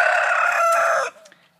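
A rooster crows once, loud and close, holding a strong, steady call for about a second before it cuts off to near silence.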